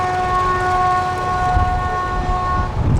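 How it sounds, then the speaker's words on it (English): A loud, sustained narrowboat horn blast sounds close by for nearly three seconds, steady in pitch, over low engine rumble and water noise. "They're sounding their horn for the gap."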